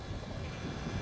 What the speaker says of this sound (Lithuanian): Vėjas labai stiprus. Realiai važiuoju prieš vėją.